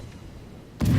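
A warship's cannon in World of Warships fires a single sudden loud boom at the very end, after a quiet, low ambient rumble.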